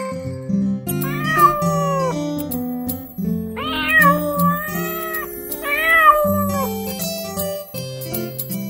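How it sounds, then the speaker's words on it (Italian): A kitten meows in a short series of high, drawn-out cries, clear and close, set against a sung children's nursery rhyme melody. "Micio, micio, sì mamma"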